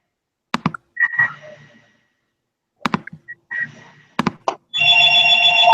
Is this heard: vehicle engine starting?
no